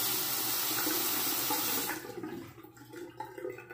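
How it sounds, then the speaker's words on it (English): Tap water runs steadily into a sink to wet a shaving razor, loud and close, then cuts off after about two seconds, leaving quieter dripping and handling sounds. "And let me wet the razor."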